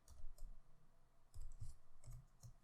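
Faint, quiet keystrokes on a computer keyboard come in short uneven clusters of soft clicks and taps, with brief pauses between bursts.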